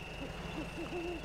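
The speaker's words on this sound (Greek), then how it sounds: "ακούω κουκουβάγια" Owl hooting in the video game MudRunner Spintires, a few short soft hoots in quick succession, faint over a steady ambient hum.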